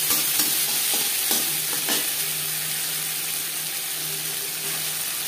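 Ginger and green chilli paste sizzling in a pan, a broad steady hiss with a few soft early knocks of a utensil, fading slightly toward the end, heard without talk.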